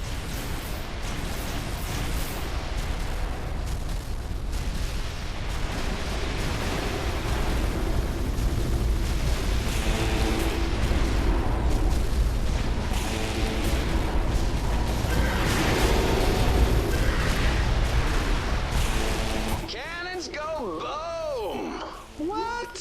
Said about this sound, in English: Man, I love the sound of cannons.